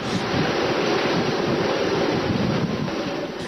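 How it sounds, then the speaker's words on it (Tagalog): Strong typhoon wind roaring steadily against the microphone in Daet, Camarines Norte, a dense continuous rush with a low rumble, loud and close, no voices. "lubhang malakas naman ang hanging dala ng Bagyong Glenda sa Daet Camarines Norte"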